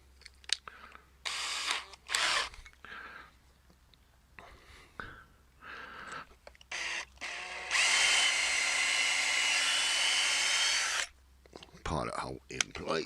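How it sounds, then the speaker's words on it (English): A power drill bores a pilot hole into reclaimed pallet wood for a garden build, a steady loud whirring run of about three seconds, with brief tool handling and short bursts of activity before and after. "so we'll just replace that again to put a pilot hole through"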